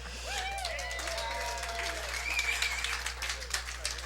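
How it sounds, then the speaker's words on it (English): A packed crowd at a curling semifinal in a curling club applauds steadily, a dense clapping wash with a few whistles, while a commentator talks over it. "Listen to that crowd to welcome us here today."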